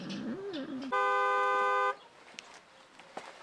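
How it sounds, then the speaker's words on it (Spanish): A single loud, sustained car horn blast lasting about a second, sounding nearby over faint background noise and a voice just before it. "El claxon es el sonido de que ya llegó."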